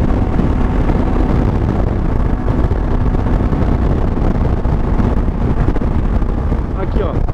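Wind buffets the microphone during a motorcycle ride, a constant loud low rumble and roar filling the whole stretch with no letup, engine noise blended underneath.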